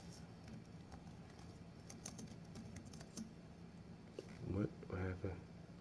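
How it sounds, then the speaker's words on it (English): Laptop keys tapped in quick uneven bursts, faint and close, with a voice talking briefly near the end. "I hate typing on this laptop"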